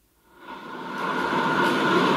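Steady rumbling train interior noise fades in and holds, a broad continuous roar of a moving carriage.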